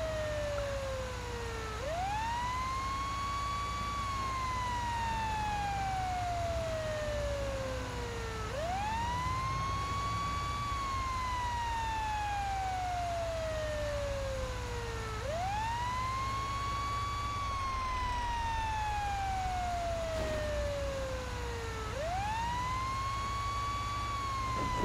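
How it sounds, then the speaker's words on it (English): A fire truck siren from GTA 5 wails in a steady repeating rise-and-fall cycle, loud and continuous, over a low engine rumble. "The second they hit the siren, they move, they stop."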